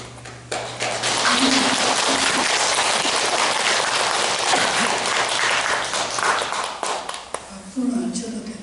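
An audience at a Buddhist temple dharma assembly for the first full moon of the lunar year breaks into loud, sustained applause for several seconds. A voice comes in briefly as the clapping tapers off.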